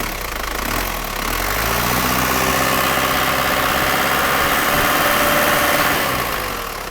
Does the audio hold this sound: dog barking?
no